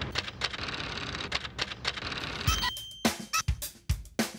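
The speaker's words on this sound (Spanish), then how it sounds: "hago dibujos en una máquina de escribir" Typewriter keys struck to make a drawing, an artist's machine pecking out irregular clacks, sparse and loud toward the end with brief pauses between strikes, no voices.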